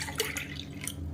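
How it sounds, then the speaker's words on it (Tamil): Water poured from a tumbler into a thickening cooking mixture in a pot, a soft, close, continuous splashing and trickling with small drips, heard alone and fairly quiet. "4 டம்ளருக்கு தண்ணி ஊற்றிருக்கேன்."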